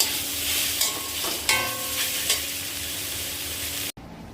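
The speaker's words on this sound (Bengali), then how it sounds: "এবার ভেজে রাখা পেঁয়াজ আর লঙ্কাগুলো এর মধ্যে দিয়ে নাড়িয়ে নেব।" Drumstick leaves stir-fried with fried onions and chillies give a continuous close sizzle, with a few scraping strokes of the spatula, before the sound cuts away abruptly near the end.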